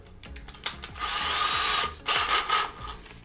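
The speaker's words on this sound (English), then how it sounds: "I'm going to chuck up this drill, and as you can see, that's a fairly lengthy 3/16." A hand drill chucks up a long 3/16 drill bit, with short bursts of whirring and ratcheting close by, then a longer grinding run and a second burst.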